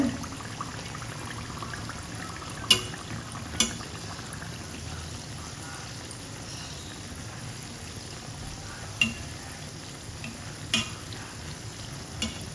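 Rice anarsa sweets deep-frying in oil, a steady low bubbling sizzle held for a long stretch, broken by a few sharp clicks and taps of a utensil.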